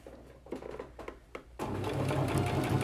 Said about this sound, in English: Little back stitch again.